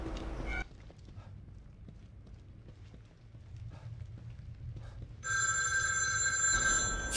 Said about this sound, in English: Phone is ringing in a place like this.